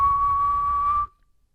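A person loudly imitates a whistle, describing one heard echoing through a giant Meijer store: a single sustained, steady tone held for about a second, then cut off abruptly.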